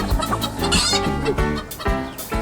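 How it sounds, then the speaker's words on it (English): Chickens clucking on an egg farm, a busy overlapping chorus of short repeated clucks and squawks from several hens close by, fairly loud and continuous with no talking. "Listen to the sound they're making. It's like a little cluck, cluck, cluck, cluck, isn't it?"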